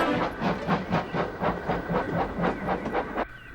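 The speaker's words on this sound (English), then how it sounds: "One morning, Sir Handel shunted his first train of the day into the station." A steam locomotive shunting a train into a station chuffs in a steady rhythm of about a dozen exhaust beats, close and loud, then cuts off abruptly.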